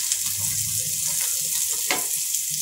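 Capsicum and onion hit a hot pan for veg Manchurian, giving a continuous bright sizzling hiss with a brief surge of crackle near the end.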